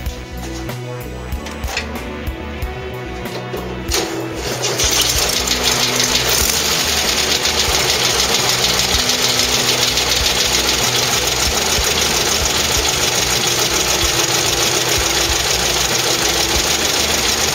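A VW Beetle engine runs at a steady idle after an oil change, a dense, even mechanical clatter that starts after a few seconds of clicking and holds constant to the end, close and loud.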